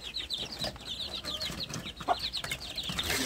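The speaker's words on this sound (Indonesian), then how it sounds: "ini adalah anak ayam kampung saya yang sudah besar-besar" Young village chickens (ayam kampung) in a rearing pen, a flock chirping and peeping in quick repeated calls with some low clucks, close and continuous, with no talk.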